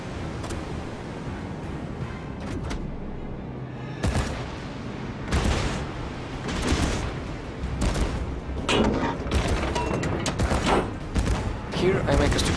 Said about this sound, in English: I fire all my torpedoes for the enemy destroyer